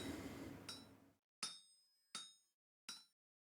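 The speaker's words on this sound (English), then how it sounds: "Hammer iron." Iron is hammered on an anvil in the survival game Vintage Story: four loud metallic strikes, evenly spaced, each ringing bright and decaying quickly into silence, with a brief rough grinding sound before the first blow.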